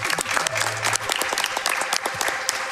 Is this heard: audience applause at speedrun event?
yes